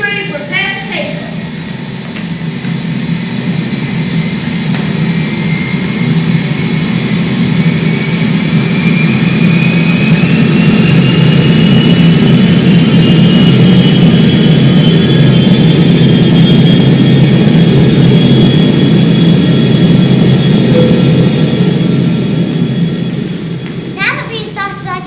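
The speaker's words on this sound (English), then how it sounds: "Cabin crew, prepare for takeoff." A jet airliner takeoff played as a sound effect in a school assembly gives a loud steady engine roar that builds for about twenty-five seconds, with a thin rising whine and children's voices under it.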